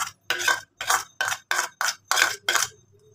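Spices, ginger-garlic paste, coriander, cumin, bay leaf and dried chili being mixed by hand in a bowl, seven loud close scraping strokes in an even rhythm, each separated by a short pause, with no voices.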